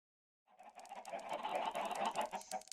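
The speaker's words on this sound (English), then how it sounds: "That's a lot of chickens." A flock of chickens in Minecraft clucking together in a soft, busy murmur that starts suddenly and holds steady, faint and alone without any talk.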